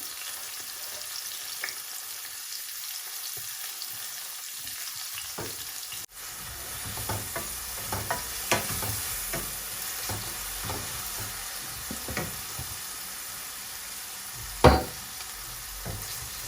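Onions frying in a pan for a Bengali rohu fish curry with Chinese pointed gourd, a continuous close sizzle and crackle with occasional stirring clatter and a sharp utensil knock near the end.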